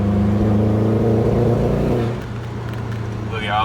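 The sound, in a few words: misfiring Subaru car accelerating uphill in third gear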